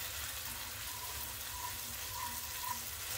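Pasta is stirred through a buttery sauce in a pan, giving a steady soft sizzle and hiss with faint, gently repeating wet scraping strokes, with no talking.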